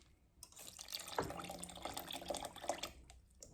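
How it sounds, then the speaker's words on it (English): Coconut milk pours into a pot of St. Lucian yam porridge, making a steady liquid splashing and trickling sound with a few brighter drips, alone and at close range. "So now I'm going to add my coconut milk."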